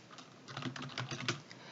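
Rapid, close keystrokes on a computer keyboard as data is entered into a spreadsheet, a brief dense flurry of clicks with no voice.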